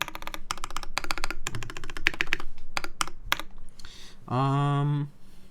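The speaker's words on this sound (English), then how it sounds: "I like to see a bit more pop in the spacebar, but I think the spacebar is a bit dampened" Keystrokes clatter on a custom TKL mechanical keyboard with a dampened spacebar, quick rhythmic bursts of clicks close up, followed by a brief voice near the end.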